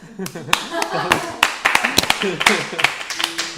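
A few people clap irregularly while voices talk and laugh over the applause; a small, close group rather than a large crowd.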